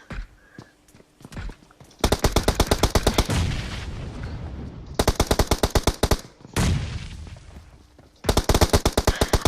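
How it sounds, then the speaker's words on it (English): Video game gunfire in rapid automatic bursts, several long rattling volleys separated by short pauses and single shots, loud and close. "Other big team now though, taking shots at Kian"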